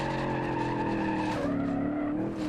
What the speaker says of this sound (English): And what if we just brake all the way?